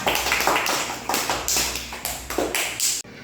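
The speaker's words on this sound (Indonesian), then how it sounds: "udah tepuk tangan" Students in a classroom clap their hands together in a rhythmic, patterned burst of sharp, close group claps, roughly ten strokes in uneven beats, ending abruptly.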